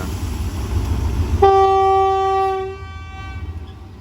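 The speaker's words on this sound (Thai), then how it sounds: "ปล่อยขบวน 447 ออกจากสถานีบ้านนา" Train 447 sounds a long, loud horn blast on departure from Ban Na station, a steady tone lasting over a second against a low engine rumble, fading out as the locomotive pulls away.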